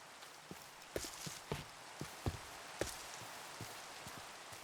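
Rain falling in the Minecraft video game, a quiet scatter of irregular soft drip and patter ticks over a faint hiss.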